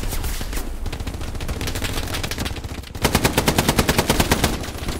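Tank gunfire in the Hell Let Loose video game rattles as a rapid machine-gun stream. A steady burst continues, then turns sharper and louder with evenly spaced cracks, and no voices are heard.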